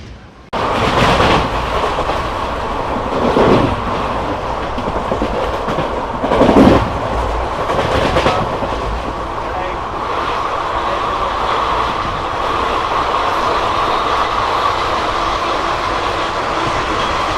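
Onboard a moving train just past Katpadi junction, a loud continuous rumble and rattle of the carriage with rhythmic clickety-clack of wheels over rail joints and a few louder surges, close and steady throughout.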